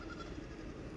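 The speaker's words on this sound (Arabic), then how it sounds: "سمع صوت الهوش" Sheep and goats bleat faintly and at a distance in a pen on a mountain grazing area in the Musandam highlands, a soft, low-level murmur of calls with no talking.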